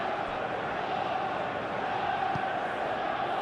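Simulated stadium crowd from a Premier League football video game, Chelsea against Burnley, a dense continuous roar and murmur of spectators holding steady throughout with no distinct peaks.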